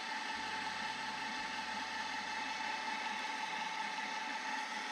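Dough mixer working lardy cake dough in a kitchen, producing a steady loud whirring hum and mechanical drone that stays constant throughout.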